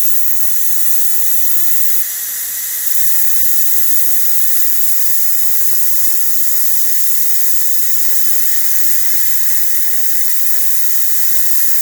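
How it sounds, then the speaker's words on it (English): Steam hissing from the pressure release valve of a Ninja Foodi after steaming asparagus, a steady, loud, close hiss that holds evenly for about twelve seconds with no talk over it. "Letting a little steam out."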